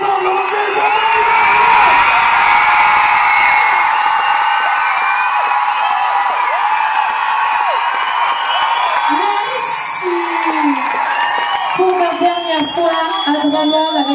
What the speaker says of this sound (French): Je vous entends crier très fort